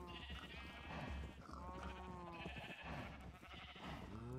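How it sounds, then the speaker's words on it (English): Sheep in the video game Minecraft bleat repeatedly, several wavering calls in a row at a moderate, steady level with no talk over them. "Come on, sheep."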